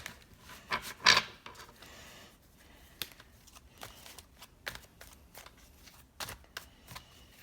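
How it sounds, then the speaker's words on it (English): Tarot cards are shuffled repeatedly, crisp riffles and soft papery taps coming in uneven bursts, close by with no talking. "I'm just clearly a bad card shuffler"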